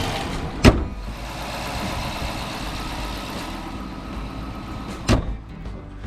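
A hot Dodge 5.7L Hemi V8 engine with the Hemi tick fault idles steadily with a low rumble, broken by two sharp thumps, one near the start and one near the end.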